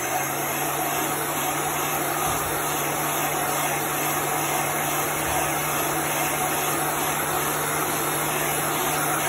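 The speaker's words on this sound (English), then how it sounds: "So you want to keep moving the heat gun so it doesn't bubble up your chalk paste" A heat gun blows steadily and close by while drying chalk paste, a constant loud whooshing hiss with a fixed motor whine and no pauses.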